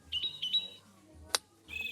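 Short bird chirps and whistled calls from recorded birdsong at a nature exhibit on a treetop walk, played in brief bursts with a sharp click between them, fairly faint against a quiet room.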